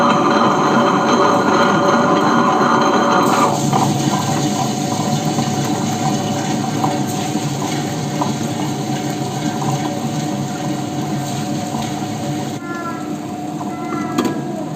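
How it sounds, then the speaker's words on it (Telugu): A steady, loud wet grinder whir runs continuously with a watery churning texture as it starts with a little water added, the tone shifting slightly partway through. "గ్రైండర్ స్టార్ట్ చేసేటప్పుడు కొంచెం లైట్గా వాటర్ యాడ్ చేసుకొని స్టార్ట్ చేస్తాను"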